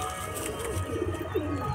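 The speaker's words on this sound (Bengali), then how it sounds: "এই দেখো এখানে আমাদের এই পায়রাটা আছে" A pigeon coos in a low, repeated throaty burble, close by and steady for a couple of seconds with no talking over it.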